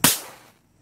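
Three fireworks e-matches fired together by an electric firing system give a single sharp, close crack with a brief fading tail, then quiet.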